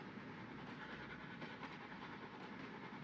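An LNER Gresley P2 steam locomotive runs in the Trainz railway simulator game, giving a faint, steady rolling rumble with soft rhythmic clatter throughout.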